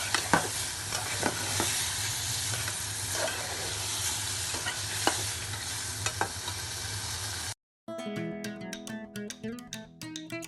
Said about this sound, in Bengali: এবার সব কিছু ভালো মতো কষাবো।